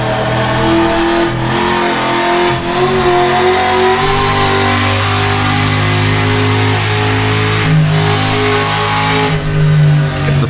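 Race car engine in the rFactor2 sim racing game on the Dundrod road circuit, revving hard under throttle with a steady loud drone that rises and drops through gear changes, alone without talk.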